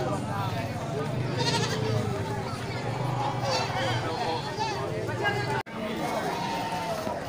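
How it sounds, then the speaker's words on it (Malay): Goats and sheep, including breeding ewes and does, bleat repeatedly at the Grogol animal market in February 2021, amid a constant crowd hubbub. Someone talks over the animals throughout. "banyak juga masuk kambing-kambing indukan dan domba indukan untuk"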